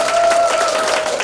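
Audience applause at an appointment-certificate ceremony for a Korean singing instructors' association, held in a university auditorium; steady clapping fills the short stretch, with a sustained tone running beneath it.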